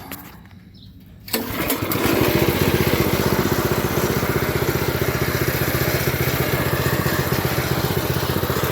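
A Manco go-kart's small engine catches from a pull start after a brief quiet moment, then runs loud and steady close by with a rapid buzzing putter and a slight rattle.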